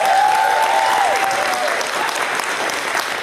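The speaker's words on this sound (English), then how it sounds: "how about another round of applause for Nicole?" Audience applause fills a convention panel room at AliCon 2019, a steady dense wash of clapping that holds loud throughout with a whistling tone fading early.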